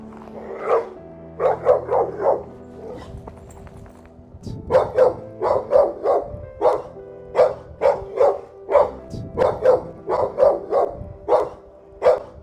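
A dog barks loudly and repeatedly on a street, firing rapid bursts of sharp, close barks in clusters with short gaps, a few softer yips in between.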